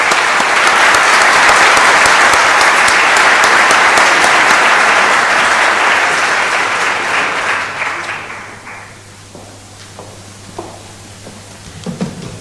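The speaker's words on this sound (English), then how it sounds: "I would like to ask you kindly for a big applause to our panelists." Loud, sustained applause from a conference audience thanking a rail and satellite technology panel, holding steady for about eight seconds and then thinning out to a few last claps.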